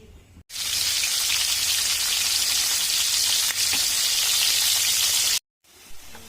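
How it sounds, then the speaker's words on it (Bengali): Pieces of rohu fish dropped into hot oil in a wok set up a loud, steady sizzle that runs unbroken for about five seconds, then cuts off briefly before a fainter crackle resumes. "কড়াই বসিয়ে দিয়েছি তেল দিয়ে দিয়েছি তেল গরম হয়ে গেছে এবার আমি দিয়ে দেবো মাছ"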